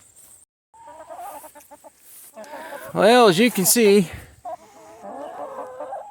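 Backyard chickens cluck loudly and close by in a busy burst, with someone talking before and after them outdoors.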